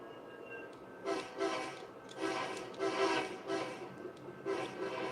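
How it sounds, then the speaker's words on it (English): An Amtrak train running in the video game Southline District gives faint rhythmic pulses of rolling rail noise in repeated swells, with a low steady hum underneath. "I'm using the Y to turn around the Amtrak."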